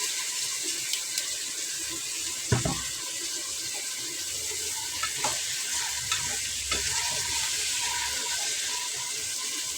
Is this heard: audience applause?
no